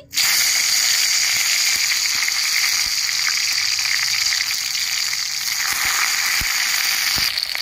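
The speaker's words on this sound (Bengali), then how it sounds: "তেল গরম হয়ে গেছে, উচ্ছেগুলো আমি ভেজে নিচ্ছি।" Slices of bitter gourd fry in hot oil with a steady, bright sizzle that runs unbroken from start to finish, close and fairly loud, with a few faint clicks of utensils beneath.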